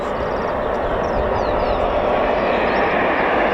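A Eurofighter Typhoon FGR4 jet at RAF Coningsby roars loudly and steadily as a broad, continuous engine rush, with faint whistling tones drifting above it.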